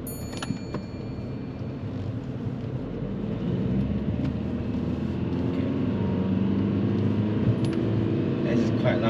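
A car engine under driving-test conditions revs loudly and rises steadily in a sustained drone, held in too low a gear, with people talking inside the cabin over it.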